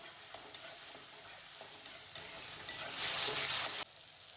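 Ground green chillies, garlic and salt fry in oil for a ridge gourd chutney. A close sizzle is broken by stirring scrapes, then swells into a loud hissing burst before dropping back, with no speech.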